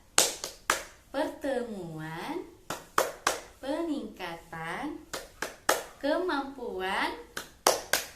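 A group of women claps a rhythmic tepuk P2K2 routine, short bursts of unison hand claps alternating with chanted words, close and lively indoors.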